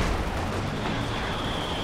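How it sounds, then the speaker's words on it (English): A mortar firing amid a Company of Heroes 2 battle, heard as a dull, steady rumble of artillery and explosions with a continuous, even roar. "And there goes the mortar."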